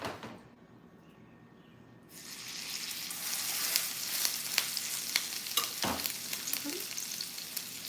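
Jackfruit salmon cakes sizzle in a hot skillet, a soft hiss that swells into a loud, steady, close crackle of frying oil partway through, with a brief knock near the end and no voices.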